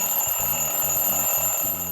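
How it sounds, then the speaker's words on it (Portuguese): An alarm clock rings in a narrated children's story, a loud continuous electronic ringing pattern of repeated bursts running steadily through the whole moment without any voice. "Finalmente o alarme toca."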